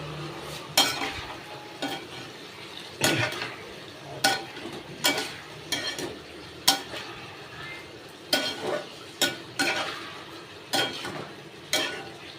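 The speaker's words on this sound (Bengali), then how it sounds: "সব মশলা দিয়ে শুধু কষাচ্ছি যতক্ষণ না আলুগুলো সেদ্ধ না হচ্ছে" Potatoes and spices are stirred and fried in a pan, with a spatula scraping and knocking at irregular intervals over a soft, steady sizzle.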